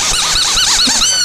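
A dog in Fallout 3 growls and whines steadily at close range, the low snarling overlaid with rising and falling whimpering tones, with no one speaking.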